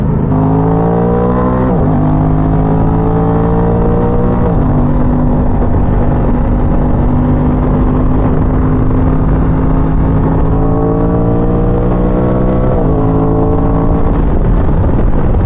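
An Aprilia Tuono 660 motorcycle engine revs hard while riding, loud and close, its pitch climbing through repeated gear runs with brief drops at each shift, over constant wind rush.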